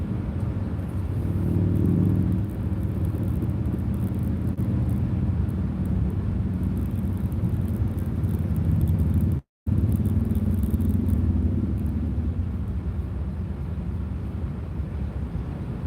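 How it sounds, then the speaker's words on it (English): Steady road traffic rumble heard from inside a moving vehicle, a continuous loud engine and tire drone with a brief cut near the middle. "Traffic. It's getting worse."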